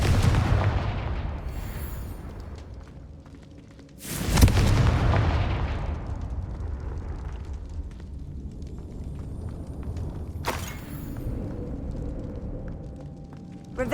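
Spell explosions from the Hogwarts Legacy video game: two sharp, loud booming blasts a few seconds apart, each with a crackling decay, over a steady rumbling game soundscape.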